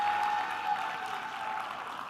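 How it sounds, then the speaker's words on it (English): Audience applause for a supporting partner at a space expo and data conference in Kenya, a steady wash of clapping hands sustained throughout, with a faint steady tone underneath. "A round of applause for the support they have given."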